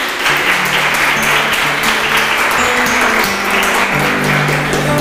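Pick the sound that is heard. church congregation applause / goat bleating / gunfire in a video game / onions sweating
church congregation applause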